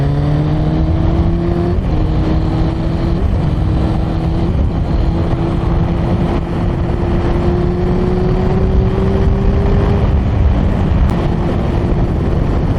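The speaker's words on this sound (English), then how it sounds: "we're riding the Fireblade" A Honda CBR900RR Fireblade motorcycle is ridden with a steady engine drone whose pitch climbs through several gear changes, heavy wind noise throughout.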